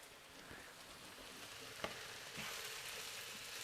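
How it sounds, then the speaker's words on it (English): Food being stirred around in a frying pan, a faint, steady sizzle with soft scraping and an occasional sharper click from the utensil. "I'm just going to stir my food around"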